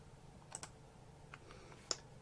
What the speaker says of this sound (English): So I'm going to click OK.